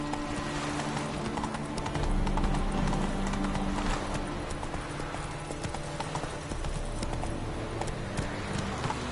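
Roach, a horse in a PS4 video game, gallops with a rapid, steady clip-clop of hooves, close and continuous over a low game ambience, with a faint whinny-like tone partway through.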